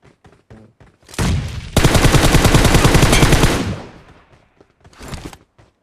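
A long burst of automatic gunfire in the mobile game PUBG Mobile, loud and close, lasting about two seconds after a short lead-in, then fading out into quieter single shots.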